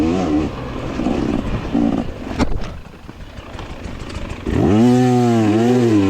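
A KTM 300 two-stroke dirt bike engine climbs a hill during a hare scramble race, buzzing and rising, then revving hard with loud sweeping throttle blips close to the microphone.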